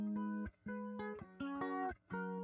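Keyboard arpeggio played through a rotary cabinet effect, repeating chord-tone patterns that swirl and waver slightly, steady and close with brief dips between phrases, no voices.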